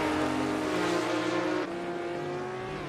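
A Brumos Porsche race car in a sim racing game at Daytona gives a steady, loud engine drone with clear harmonic tones. The pitch drops slightly partway through, as if the car is shifting or lifting, and no one speaks.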